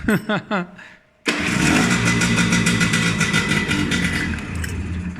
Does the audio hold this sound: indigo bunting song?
no